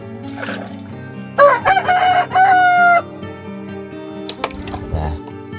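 Chickens crow and cluck close by at a rural coop, with a loud drawn-out rooster crow in the middle and scattered clucks before and after; no one speaks.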